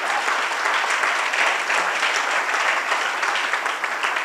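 A church congregation applauds steadily, a dense, even wash of many clapping hands close by that carries on throughout without a break.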